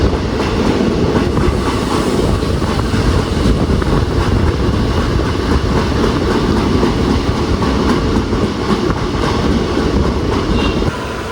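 Train pulling into Vadakara railway station in Kerala, heard from on board as a steady, loud rumble of wheels with clickety-clack rhythm and faint squeals throughout, easing slightly at the very end.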